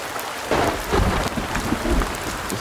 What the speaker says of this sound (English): Thunder sounds really nice.